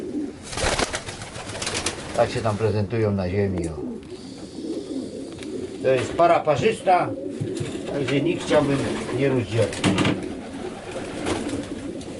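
Pigeons, including a mated pair of Fabry and Janssen breed birds, coo repeatedly in rolling bursts close by, while someone talks throughout.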